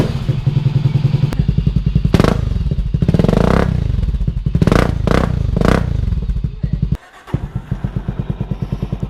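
A custom-built Motostar Cafe 400 motorcycle engine idles with a steady, rough thump, then is revved in several sharp, loud bursts close by, dropping briefly before settling back into a lumpy idle.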